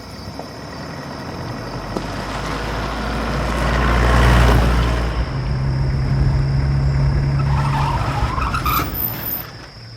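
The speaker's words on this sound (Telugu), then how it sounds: "ఈ కార్ ఏమిటి ఇక్కడ ఆగుంది?" A car approaches on a quiet road, its engine growing louder and nearer before tires scrub and it settles to a steady idle after stopping; no one speaks.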